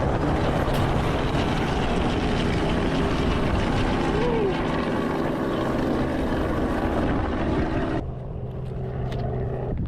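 A helicopter lifts off from a river sandbar in a remote part of Alaska near Talkeetna, its rotor and engine a loud, dense roar that holds steady before dropping off abruptly as it moves away.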